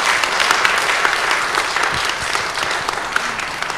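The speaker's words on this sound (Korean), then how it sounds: "두 분에게 크게 박수 보내주시기 바랍니다." Audience applause at a church lecture and letter-reading event, a steady dense wash of many hands clapping throughout, fairly loud and close, with no talking over it.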